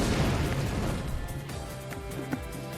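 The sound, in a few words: explosion in a visual novel video game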